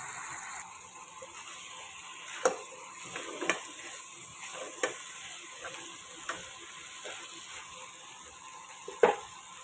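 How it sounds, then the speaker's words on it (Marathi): Crab sautéing in a spice masala in a pan gives a soft, steady sizzle broken by occasional sharp spoon knocks and scrapes against the metal, with no voices. "छान असं मसाल्यात 2 मिनटं परतून घेऊया."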